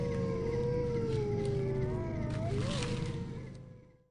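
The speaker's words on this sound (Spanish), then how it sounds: "de noche en este valle se pueden escuchar sonidos como de aullidos y gruñidos que nunca habían escuchado" Howling and growling like the night sounds of a remote valley in Nahanni National Park: a long, wavering howl rises and bends over a low rumbling growl, then fades out near the end.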